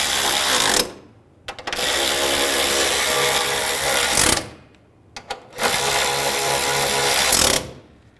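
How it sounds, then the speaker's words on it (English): A power tool drives bolts snug on the radiator bracket of a 2011-2014 Hyundai Sonata 2.4L, two long, loud, steady whirring runs with brief pauses and short triggers in between, close and without talk. "Snug down the bolts."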